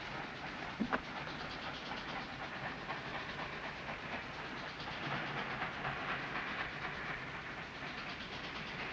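Steady hiss and rumble of a moving train in the American Civil War-era South with faint rhythmic clatter, constant throughout, a sharp click near the start.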